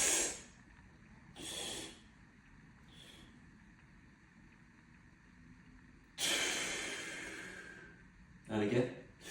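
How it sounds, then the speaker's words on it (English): Several deep, close breaths from a three-stage breathing exercise: forceful hissing inhales and exhales come in separate bursts with quiet pauses between them. "So then 3-stage breath."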